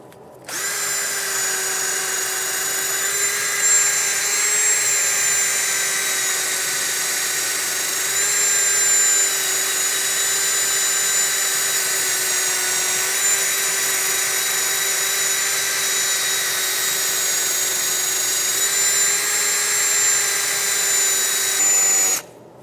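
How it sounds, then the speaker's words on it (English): A wire wheel spinning on a drill, cleaning rust from the inside bore of a 2014-2021 Mazda 6 rear steering knuckle, giving a steady high-pitched grinding whine that holds constant for over twenty seconds before stopping. "I'm going to use a wire wheel on a drill and clean out the inside bore of the knuckle here"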